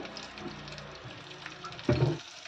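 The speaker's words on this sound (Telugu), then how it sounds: "ఈ విధంగా పచ్చి కొబ్బరి కూడా వేసి కాస్త వేయించుకోవాలి" Green chilies and fresh grated coconut fry in oil in a pan for a tiffin-style chutney, giving a soft, steady sizzle with light stirring scrapes and a brief louder clatter near the end.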